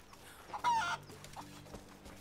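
Chicken clucking in the video game Rise of the Tomb Raider, a short burst of close, loud clucks followed by a few fainter ones, with no talk over it.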